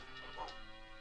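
A dog barks in the Beethoven's 2nd video game, a short yelping bark near the middle of a faint, quiet stretch with a thin background hum.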